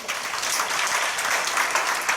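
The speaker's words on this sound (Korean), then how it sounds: "이거 박수로 한번" Audience applause at a Korean Presbyterian commemorative worship service, a dense, steady roar of many hands clapping together throughout, with no voices on top.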